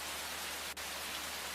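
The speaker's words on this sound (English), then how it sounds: "Just remember that it's raining." Steady rain falling in an RPG Maker horror video game, a constant soft hiss of downpour with one brief dip, no other sounds over it.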